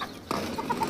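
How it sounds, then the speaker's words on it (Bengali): Chickens on a house rooftop give a few short, close clucks over a faint background hiss. "আমাদের মুরগি"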